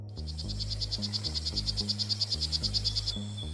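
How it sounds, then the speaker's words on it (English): A poison dart frog calls in the Amazon jungle with a fast, even train of bright pulsed chirps lasting about three seconds. It plays over a steady low, stepped musical drone. "This is a poison dart frog."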